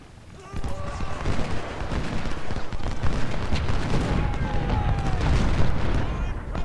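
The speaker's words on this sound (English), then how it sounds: "And our artillery can start their long-range bombardment." Artillery bombardment in the video game Ultimate General: Civil War rumbles as a dense mix of booming cannon fire and crackling distant gunfire, building steadily with a narrator's voice over it.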